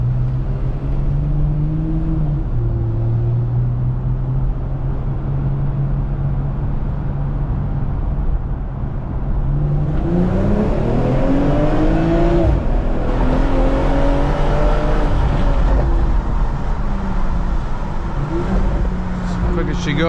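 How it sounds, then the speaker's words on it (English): A BMW M240i accelerates hard onto a highway, its engine note climbing in pitch through the revs over steady road and cabin rumble, heard from inside the car. "This is the best part of my morning drive, is accelerating onto the highway."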